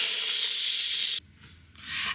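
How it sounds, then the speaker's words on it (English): An Instant Pot pressure cooker vents steam in a loud, steady hiss that cuts off abruptly, then returns as a softer burst of venting a moment later. "so shall we release the pressure? So flick it across from ceiling to venting"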